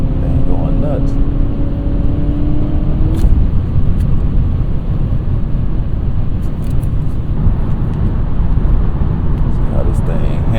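A 2023 Honda Accord Sport Hybrid with a CVT is on the move, with a steady, dense cabin drone of road and drivetrain noise throughout and a faint rising tonal whine in the first few seconds.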